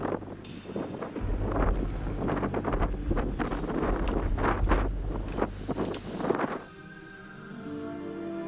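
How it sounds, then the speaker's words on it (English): Strong wind buffets the microphone on a hilltop castle in Lanzarote, a loud continuous roar with rumbling gusts that suddenly drops to a quieter hiss near the end. "It's a bit windy up here,"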